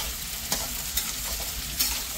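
Onion and garam masala fry in hot oil with a loud, steady sizzle close by, broken by a few sharp stirring clicks and no voices.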